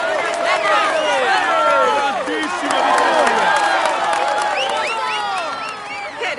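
Roadside crowd at a Tour de France stage from Troyes to Nuits-Saint-Georges clapping and cheering for the yellow jersey, a loud steady wash of applause and shouts with excited voices throughout.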